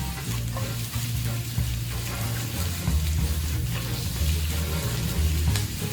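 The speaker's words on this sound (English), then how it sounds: "Stir fry." Onions stir-fried in a pan, a steady loud sizzle with continuous frying crackle and occasional utensil scrapes, close and unbroken throughout, with a low hum beneath.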